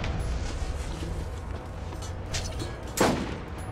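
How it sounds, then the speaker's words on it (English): Gunfire in the video game Borderlands, aimed at the player: a dense, steady rattle of game combat noise running throughout, with one sharper, louder shot standing out near the end. "Who's shooting at me?"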